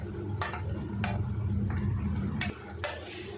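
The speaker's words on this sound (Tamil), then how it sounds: "தேங்காய் விழுது சேர்த்துட்டு நல்லா மிக்ஸ் பண்ணி வதக்கி விட்டுட்டேன்" A utensil stirs and scrapes thick coconut paste into masala in a pan for Chettinad-style okra kara kuzhambu, giving several distinct, close scraping strokes over a low background hiss.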